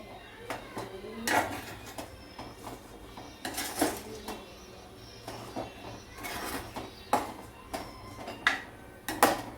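Avial, a vegetable dish, is stirred in a clay pot with a metal spoon, giving repeated scraping and clinking strokes at close range in irregular bursts, with faint background sounds between them.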